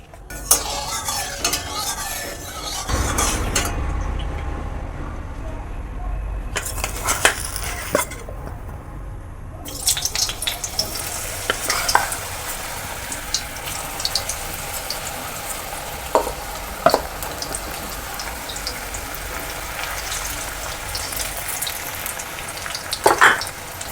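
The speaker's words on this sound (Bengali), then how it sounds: "আমি এবার ওই সয়াগুলোকে ভেজে নেব। এটা সাদা তেলে করছি।" Soya chunks fry in white oil in a pan on a gas stove, a steady loud sizzle with repeated scraping and stirring clatter from a utensil, briefly dropping away before the frying noise resumes.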